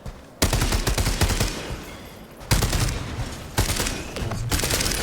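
Rapid automatic gunfire in the video game Helldivers 2, loud sustained bursts of shots split by short breaks, with no talking.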